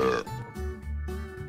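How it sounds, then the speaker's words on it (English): A single drawn-out burp, low, voiced and close, lasting just over a second, heard on its own in a children's explainer about digestion. "that gas can go up the esophagus and come out the mouth as a burp"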